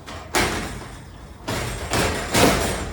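A garage door panel being rotated into its track at an angle during installation, giving a few loud sliding, thudding impacts spaced over a few seconds, close by with no talk.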